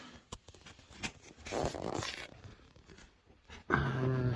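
A Scalextric SCA 1436P slot car set box is opened with scattered close crinkles, rips and rustles of cardboard and plastic packaging, growing busier midway and ending in a louder burst of handling.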